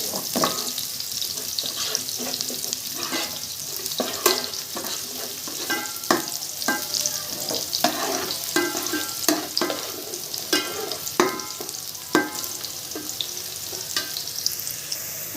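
Garlic and pre-boiled chicken fry steadily in a pan, a continuous close sizzle broken by repeated scraping stirs, with no voices.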